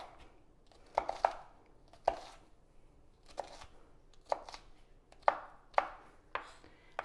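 A knife chops bell pepper and onion on a cutting board for stuffed peppers, with sharp, close wooden taps arriving in irregular bursts between quiet pauses and no speech.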